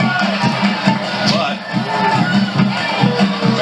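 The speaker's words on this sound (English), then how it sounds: "Now the fans are booing something here." Football crowd at a high school game booing from the stands, a sustained low rumble of voices with pulsing swells, heard under a commentator's speech.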